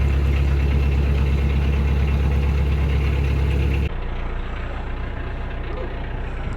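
A narrowboat engine idles with a steady low rumble and knock, dropping slightly in pitch and loudness partway through as revs are reduced.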